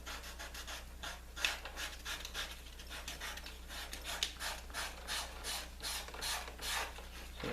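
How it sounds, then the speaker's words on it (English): A leather knife sheath for a bushcraft knife being sanded by hand: steady, rhythmic back-and-forth rasping strokes, close and fairly quiet, with no voices. "I'm just going to sand it."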